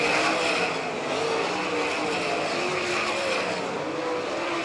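Sprint race cars howl around a dirt track at a Nebraska All Stars versus NCRA event, their engines forming a continuous, dense, loud roar with overlapping cars and no pauses or audible talk.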